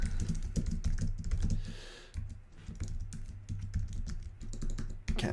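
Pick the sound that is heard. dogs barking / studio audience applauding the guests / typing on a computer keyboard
typing on a computer keyboard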